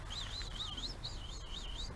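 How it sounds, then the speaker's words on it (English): Black and white birds in rural Japan call with repeated wavering, whistled phrases, clear and moderately near over a low steady background rumble. "that's one of those noisy black and white birds"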